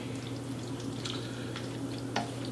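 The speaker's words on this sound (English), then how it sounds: "we're going to wait a minute until all the water drains out of that" Water draining out of cooked pasta in a kitchen: scattered soft drips and trickles over a low, steady background hum.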